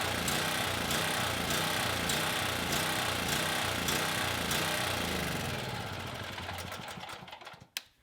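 A Champion dual fuel generator's small engine runs steadily and loudly with a fast, even chug. It then winds down and sputters out near the end, with one sharp final pop.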